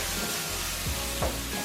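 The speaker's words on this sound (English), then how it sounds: "Now I'm adding garlic. My chopped garlic." Chopped garlic sizzling in a pan with cooked onion for paella, a loud, close, continuous frying hiss with a few brief stirring scrapes.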